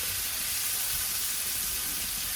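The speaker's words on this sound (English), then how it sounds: "I love sauteed onions, and especially sauteed onions with garlic" Onions and garlic sauté in a hot pan, giving a loud, continuous sizzling hiss that holds steady throughout without pause.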